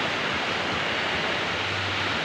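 Large ocean waves crash and surge onto a shallow shore, producing a steady, loud roar of churning surf with no voices.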